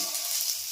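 Tomato, mustard seeds, dried chillies and curry leaves frying in a pan, giving a short, bright, continuous sizzling hiss heard up close with no voice over it.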